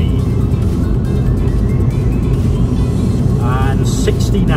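A 2005 Renault Clio 1.2 16V Dynamique accelerates in fourth gear on a dual carriageway, a steady loud engine and road drone filling the whole stretch, with someone talking over it throughout.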